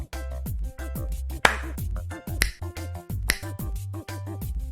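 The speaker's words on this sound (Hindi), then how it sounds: "हाँ, ताली कितने बार बजाई? एक बार। लेकिन चुटकी बजाई 2 बार।" A single hand clap and two sharp finger snaps, played for a children's counting game, ring out as crisp percussive hits over a steady musical backing.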